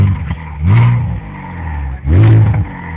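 BMW Z4 3.0 straight-six engine revved twice by a stationary car, each blip rising to a throaty roar and falling back to a low idle, loud and close, with no voices.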